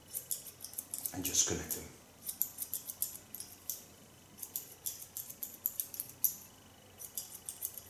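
Scissors snipping hair during a short feminine haircut, a steady series of close, crisp metallic cuts repeating throughout, with one louder rustle early on and a voice speaking briefly over the snipping.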